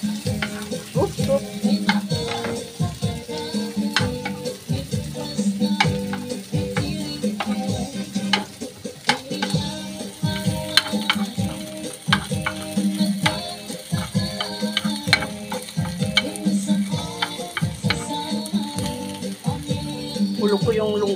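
Corned beef browning in a frying pan sizzles steadily, with repeated scraping stirs in a regular rhythm, close and fairly loud throughout.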